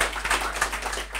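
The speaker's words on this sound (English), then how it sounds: "I'd really like to round of applause for Gary, our brilliant cinematographer" A brief burst of applause from a crowd, dense overlapping clapping at a steady level.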